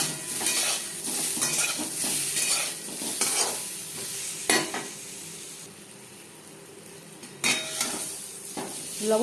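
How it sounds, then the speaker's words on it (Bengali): Potatoes frying with turmeric and salt in a pan for potato chicken curry: a close sizzle with repeated stirring scrapes and metal utensil knocks against the pan, no talk. "হলুদ দিয়ে আলু লালচে করে ভাজা হয়ে গেছে"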